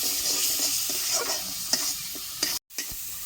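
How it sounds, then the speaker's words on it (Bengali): A spice paste for an egg and potato curry sizzles in a pan while a spoon stirs it, the steady frying hiss broken by soft scraping taps and a brief sudden dropout near the end. "মশলাটা একটু নেড়ে চেড়ে নিয়েছি"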